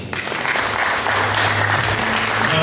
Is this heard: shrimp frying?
no